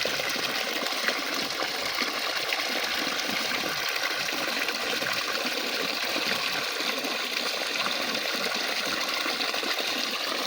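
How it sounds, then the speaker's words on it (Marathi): Water gushes steadily out of a farm borewell with no motor, a continuous loud rushing flow that holds even for the whole stretch, with no talking. "चोवीस तास एवढं पाणी सारखं बाहेर येतं."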